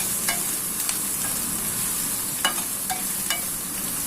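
Finely chopped onions sautéing in oil, a steady hissing sizzle with a few light spatula taps and scrapes, close and moderately loud, no voices.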